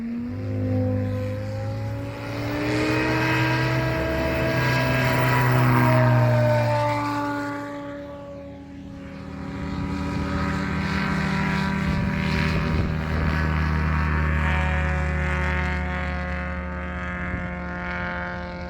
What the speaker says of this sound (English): Steve's got the Yamaha-powered snowmobile engine, turbocharged, nitrous fueled, just aircraft.